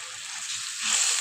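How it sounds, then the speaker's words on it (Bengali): Spice paste sautéing in oil in a pan for an egg and potato curry, a steady bright sizzle that swells slightly louder toward the end, with no talking. "যতক্ষণ তেল মশলা থেকে তেল না ছাড়ে ততক্ষণ পর্যন্ত কষাতে হবে।"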